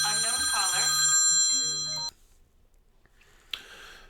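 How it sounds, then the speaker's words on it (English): A telephone rings loudly and steadily for about two seconds, then cuts off, leaving only quiet room noise with a faint rustle near the end. "that was an interesting phone call"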